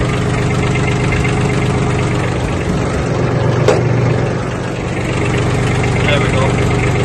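Kubota B1702 4x4 compact tractor with its diesel engine running steadily, a loud, close rumbling chug that continues throughout without much change.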